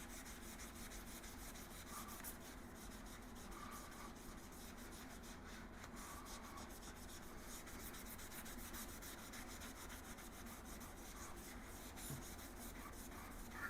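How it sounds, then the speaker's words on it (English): Steady scrubbing of plastic on a 1996 Yamaha Wolverine ATV, a continuous close rubbing and brushing noise that runs evenly throughout with no talking. "I'm going to scrub this little area here, then I'll wipe it off"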